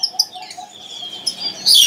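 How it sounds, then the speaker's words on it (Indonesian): Small camperling birds in a kiosk at a bird market give high, thin chirps and short calls, several birds scattered through the moment with a brighter burst of tweets at the end, no talking. "Ada juga yang namanya burung camperling."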